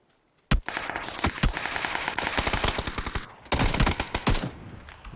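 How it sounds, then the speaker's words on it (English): Rapid automatic gunfire from the PUBG PC battle royale game during an esports scrim: loud, close bursts of shots with a brief pause, then a second dense volley. "Nice shots from Whorehouse."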